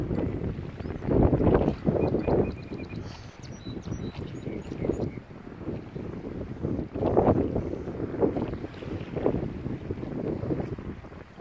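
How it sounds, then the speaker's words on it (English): Strong gusty wind buffets the microphone in surging rumbles, with a bell ringing faintly in the background. "Pretty windy today."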